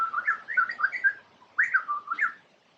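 A bird chirps and warbles nearby in two quick bursts of bright whistled notes separated by a short pause, clear and alone against a quiet background.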